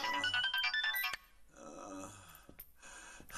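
A phone ringtone chimes in a bright electronic melody for about a second, then fainter tones and clicks follow amid quiet background sounds; no voices.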